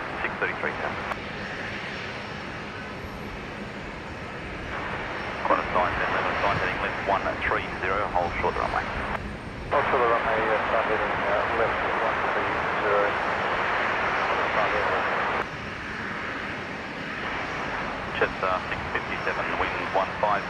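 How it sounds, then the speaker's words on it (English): A just-arrived Air New Zealand Airbus A320neo jet airliner at Brisbane airport gives a moderate jet engine whine and rumble that rises and falls in level, with voices talking over it. "So there is that Air New Zealand flight that's just arrived"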